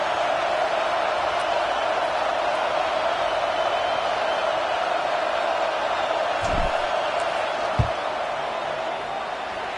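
A distant roar from a University of Florida football stadium crowd stays steady as a field goal attempt is set up, with a couple of dull thumps near the end.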